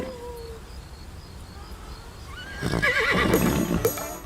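A seahorse whinnies in the SpongeBob: The Cosmic Shake video game, a short cartoonish neigh with warbling pitch and a bright chiming effect near the end, preceded by quieter game ambience.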